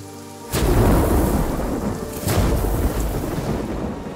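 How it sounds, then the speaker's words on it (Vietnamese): A heavy thunderstorm roars in with a sudden thunderclap over steady pouring rain and gusting wind, followed by another rumbling crack, loud and close. "Mưa gió, sấm chớp như vũ bão."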